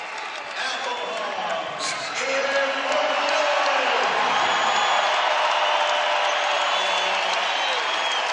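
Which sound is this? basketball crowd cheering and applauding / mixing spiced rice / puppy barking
basketball crowd cheering and applauding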